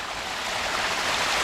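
A small stream spills over rearranged rocks as a little waterfall, a steady close broadband rush of water that holds even and continuous throughout with no voices.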